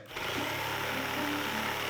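Steady power tool motor whirs continuously at a close, even level during home renovation work at a contractor's open house, with no talk over it.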